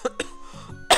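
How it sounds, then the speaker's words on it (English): A person lets out a few short, sharp coughs close to the microphone, quick bursts separated by brief gaps and ending in a louder final cough. "Lots of coughing."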